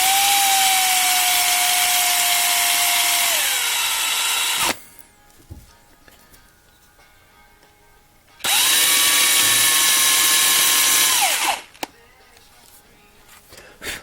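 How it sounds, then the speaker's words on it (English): Small power drill boring out the plastic rivet piece on a 1/64 scale NASCAR diecast car, two steady high whining runs of several seconds each that wind down at the end, close and loud, separated by quiet handling noises. "Always careful drilling out this little plastic piece, because the rivet's doesn't have a whole lot of metal on it"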